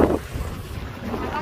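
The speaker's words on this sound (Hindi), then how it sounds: "ज्यादा हवा चल रही है कि बहुत ठंडी लग रही है" Strong, cold wind buffets the microphone at Corniche Beach, a loud low roar that bursts hardest at the start and keeps rumbling steadily, with waves churning faintly underneath.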